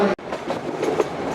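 Train on a converted broad-gauge hill railway line in North Cachar, Assam, rolling with a steady clickety-clack of wheels over rail joints, close and continuous with a brief drop near the start.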